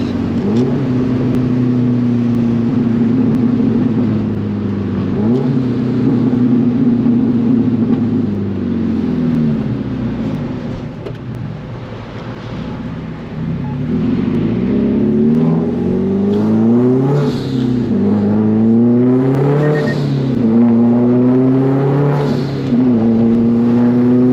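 A 400 hp Subaru STI four-cylinder engine revs hard while driving, loud and close, with rising and falling pitch sweeps as it accelerates and shifts through gears, heard alone without talk.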